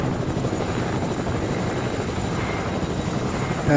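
Helicopter in Fortnite making a steady rotor and engine drone that continues evenly for several seconds and fills the whole sound. No voices over it.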